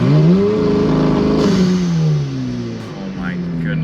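Supercar exhaust under launch control with traction control off: a loud, close engine roar rising and falling in pitch as the car accelerates hard and shifts, with voices talking over it.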